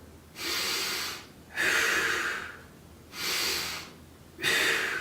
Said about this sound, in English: just work on your breathing from here